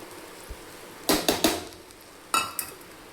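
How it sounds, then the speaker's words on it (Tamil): Metal spoon scraping and clanking against a pan while stirring cooked green gram mixed with grated coconut, a quick cluster of three sharp knocks followed by two more, close and clear with no talk. "தேங்காய் பூ சேர்த்து நல்லா கிளறியாச்சு"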